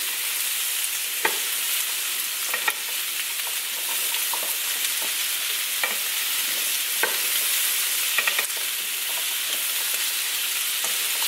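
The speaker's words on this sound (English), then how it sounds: "once you throw them in the skillet, coat the potatoes with the oil" Potatoes sizzle steadily in hot oil in a skillet, a continuous bright frying hiss broken by occasional crackles and soft stirring scrapes.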